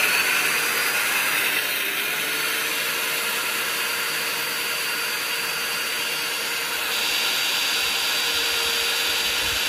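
A water well drilling rig runs at full power, producing a loud, continuous grinding roar that stays steady throughout.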